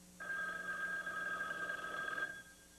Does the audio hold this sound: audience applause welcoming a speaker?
no